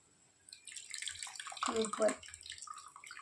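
Dissolved tamarind water is strained, giving a short burst of close, soft pouring and splashing that swells then fades over a quiet background.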